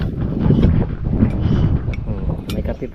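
Wind buffets the microphone outdoors in low, rumbling gusts that rise and fall for a few seconds, close and fairly loud, with no clear talk over it.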